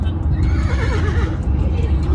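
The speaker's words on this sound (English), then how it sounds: "What sound does a horse make?" A horse whinnies with a wavering, quavering call that rises and falls, set over steady background noise, with voices nearby.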